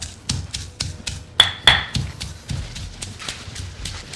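Repeated dull pounding thuds of garlic crushed in a mortar, in a steady rhythm, close by, with a couple of sharper knocks in the middle; no talking.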